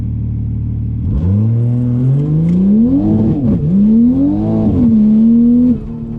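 A big-turbo 2020 Toyota Supra launches on a street pull with its tires spinning, the loud engine note rising and wavering as revs climb and surge, close and continuous with no voices over it.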